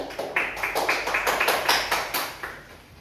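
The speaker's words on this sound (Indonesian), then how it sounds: "Beri tepuk tangan untuk Dini." Classroom students clap for a classmate in a short, loud burst of rhythmic, near applause that fades after about three seconds.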